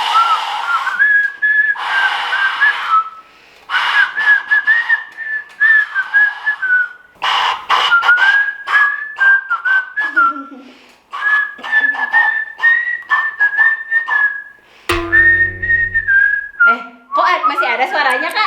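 A homemade flute carved from a carrot is blown in a series of breathy, whistling notes with short gaps between phrases, loud and close, with a brief clatter near the end.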